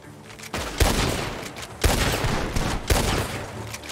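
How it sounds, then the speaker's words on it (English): Heavy gunfire in the Western action game Red Dead Redemption 2: a dense, loud fusillade with three sharp cracks standing out from a sustained roar of shots, close and with no talk over it. "The gunshots are coming from that barn!"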